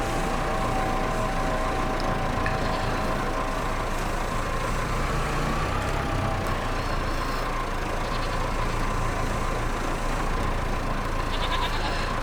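A tractor engine runs during meadow work with a steady, loud, low drone throughout, while faint bleating animals and scattered clicks sound in the background.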